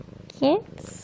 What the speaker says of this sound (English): What is it about a purring cat that instantly makes you want to fall asleep.